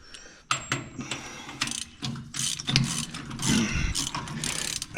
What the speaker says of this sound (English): let's tighten those bolts up on the side there